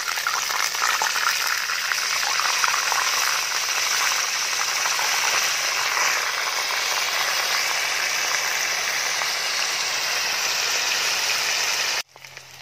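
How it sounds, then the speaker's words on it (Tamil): Chicken 65 pieces deep-fry a second time in hot oil, giving a loud, constant bubbling hiss close up that runs unbroken for several seconds before cutting off abruptly. "சிக்கனை ஒரு தடவை வறுத்து எடுத்தாச்சு. இப்போ மறுபடியும் வறுத்து எடுத்துக்கலாம்."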